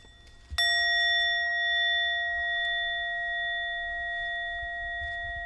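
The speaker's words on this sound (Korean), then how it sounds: "마음 챙겨 듣는 종소리가 가슴을 울리고 영혼을 깨운다." A mindfulness bell at Plum Village is struck once and rings out clear and loud, its pure sustained tone hanging in a quiet room and fading only slowly over several seconds.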